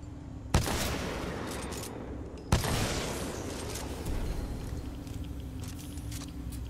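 Two sharp, loud gunshots from a weapon in Titanfall 2 crack about two seconds apart over a dense, rumbling battle background full of machinery and distant noise.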